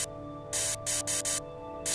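Short bursts of simulated spray paint hiss from a VR painting game played with Oculus Pro controllers, several quick sprays in an uneven rhythm over a faint steady hum, close and fairly loud.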